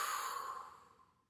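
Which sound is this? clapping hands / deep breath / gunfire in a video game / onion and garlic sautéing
deep breath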